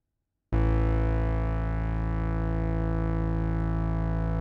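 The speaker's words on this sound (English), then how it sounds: "And this is just a bass synth," A bass synth holds one sustained note, starting abruptly after a brief silence, then droning steadily and loudly with a buzzy, harmonic-rich tone and no other sounds.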